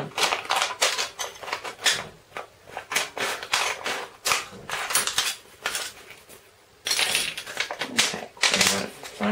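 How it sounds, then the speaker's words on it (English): Scissors snipping through a thin aluminium beer can, the top, one side and the bottom cut off in a run of crisp metallic clicks and crinkles, close and fairly loud. "you want to cut off the top, cut down one side, and then cut off the bottom"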